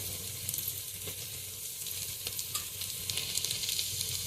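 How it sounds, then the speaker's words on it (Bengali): Garlic paste sizzling in hot oil in a pan with fried onion, a steady close crackling hiss with occasional stirring scrapes and no talk. "লাল করে ভেজে নেব রসুন বাটাটা দিয়ে দেবে"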